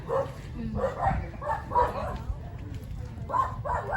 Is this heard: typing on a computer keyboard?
no